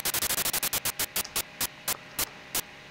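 White noise bursts synthesized in Pure Data form a rhythmic electronic beat, short hissy hits repeating quickly at first and then spacing out and slowing, each burst clipped off sharply, with no voice.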